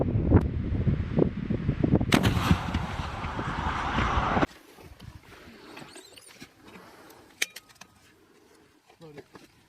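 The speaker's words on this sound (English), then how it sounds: "Back blast area all clear! Rocket!" An M3E1 MAAWS rocket launcher fires on a battlefield test range, a loud sharp blast near two seconds followed by a roaring whoosh that cuts off abruptly, with shouted commands before and faint activity afterward.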